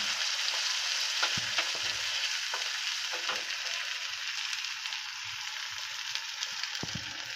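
Baby corn chilli is stirred in a pan with black sauce, pepper and vinegar, a steady bright sizzle under repeated scraping and clinking strokes of a spoon, close and without talk.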